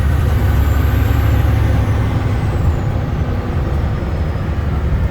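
A 2004 Freightliner Century truck drives with a loud, steady low diesel rumble and road roar, its gears shifting smoothly, with no voices present.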